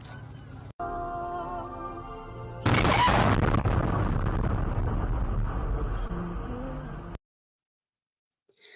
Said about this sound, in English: Notice how this is the moment the explosion started, captured by a dash cam in the car.